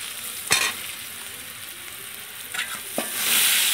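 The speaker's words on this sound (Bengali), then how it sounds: "এবার দেখো কড়াইতে আমি কাঁচা লঙ্কা রসুন দিয়ে দিয়েছি, এখানে নুন হলুদও দিয়ে দিয়েছি, হালকা করে একটু ভেজে নেবো এটাকে।" Green chilli and garlic with salt and turmeric frying in a wok, a steady soft sizzle with a few sharp scrape-like stirs standing out near the start and toward the end.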